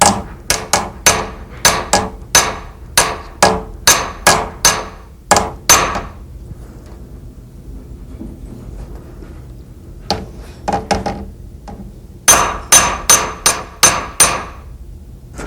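Night sight on a pistol slide being driven into its dovetail with a wooden rod, giving sharp close tapping blows in quick bursts, then a quiet pause before more runs of strikes.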